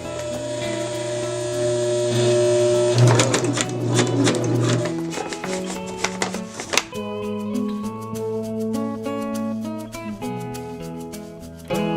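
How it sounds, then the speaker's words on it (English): A sewing machine stitches the handle of a bag made from a grain sack, giving a steady close mechanical whirr with rapid needle clatter that varies in speed across the stretch, with no talk. "Now really take your time with this sew, guys, so that it looks nice"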